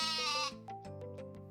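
A sheep bleats in a loud, close, wavering call, followed by a rapid series of shorter pulsing bleats that trail off.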